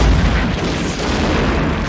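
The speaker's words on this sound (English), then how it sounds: "The army press on where the cannon is set off." A cannon fires in the animated film Mulan (1998): a deep, heavy boom rolls out and lingers as a low rumble for a couple of seconds, with no voices.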